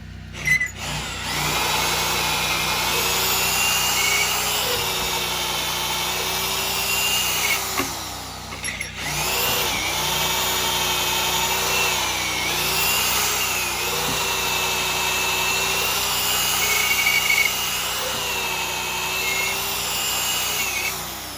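A power drill whirs steadily for about twenty seconds, its pitch dipping and rising as it bites into wood at an off-grid cabin build, with a brief pause midway.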